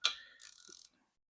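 A ratchet turns a 14 mm deep socket to tighten a bolt on a turbocharger during repair, giving one sharp click followed by a short burst of fine ratcheting, close and alone.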